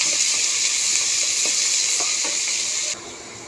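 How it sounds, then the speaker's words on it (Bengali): Chopped garlic, onion and green chili sizzling in hot mustard oil, a loud continuous frying hiss with a few soft stirring knocks, dropping quieter near the end. "এখন এখানে দিয়ে দেব রসুন কুচি, পেঁয়াজ কুচি আর কাঁচামরিচ। এখন এটাকে সুন্দর করে ভালোভাবে ভেজে নেব।"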